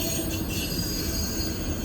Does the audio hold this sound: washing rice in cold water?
no